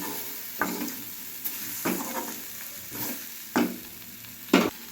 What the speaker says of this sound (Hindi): अब भिंडी को थोड़ी देर चला देंगे, फिर इसको ढक देंगे।